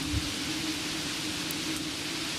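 Steady rain falling outdoors in a rural Javanese village, a dense continuous wash of noise with no voices, evenly loud throughout.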